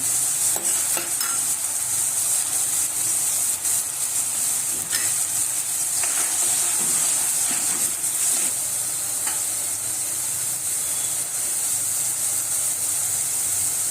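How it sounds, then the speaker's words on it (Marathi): Onion-tomato paste fries in oil for chole, a loud, continuous close sizzle with scraping stir strokes throughout and no talking. "आता याला चांगलं आपण फ्राय करूया।"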